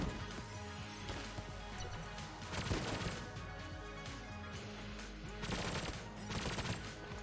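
Rapid gunfire in the video game Enter the Gungeon, with dense repeated shots in bursts over layered game music and effects, held at a fairly quiet level.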